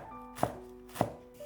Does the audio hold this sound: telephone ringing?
no